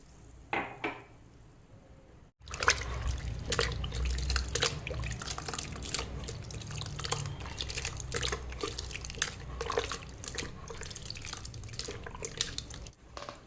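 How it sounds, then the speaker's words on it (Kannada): Boiled and cooled water pours into a plastic box as a steady close splashing trickle lasting several seconds, after a few quiet handling knocks. "ಇವಾಗ ನೋಡಿ ಒಂದು ಪ್ಲಾಸ್ಟಿಕ್ ಬಾಕ್ಸಲ್ಲಿ ಹಾಕಿದ್ದೇನೆ ಈಗ ಇದಕ್ಕೆ ಬೇಕಾದಷ್ಟು ನೀರನ್ನು ಹಾಕ್ತೇನೆ"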